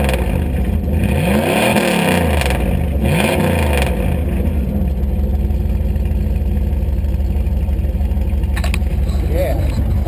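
A straight-piped 1999 Dodge Durango with a 360 V8 gets a couple of sharp revs that rise and fall over a loud, rough, close exhaust idle, with people talking over it.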